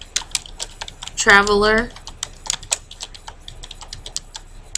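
Rapid key clicks from typing on a computer keyboard, a steady run of light taps throughout, with a brief spoken word partway through.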